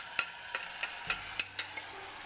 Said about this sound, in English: Give it a couple stirs